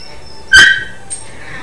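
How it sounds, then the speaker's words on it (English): A dog bark from the Pokemon Let's Go Eevee video game, a single short sharp yelp followed by a fainter high chirp, heard alone over quiet game background. "Did you have to bark, Bandit?"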